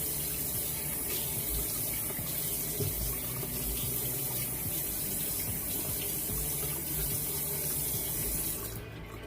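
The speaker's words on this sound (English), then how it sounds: "Throw a little bit of cold water in our head." Cold water runs steadily from a bathroom tap during an after-shave rinse, a continuous close splashing hiss that cuts off near the end, with no talking.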